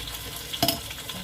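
Blended onion for a prawn curry sizzles and fries in a pan, with a sharp burst of stirring near the middle over a steady background crackle.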